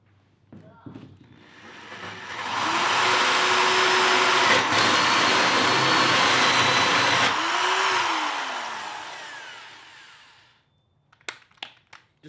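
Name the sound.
hole saw drilling through PVC bed platform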